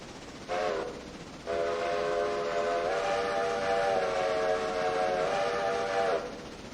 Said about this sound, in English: I just can't get that whistle to sound right.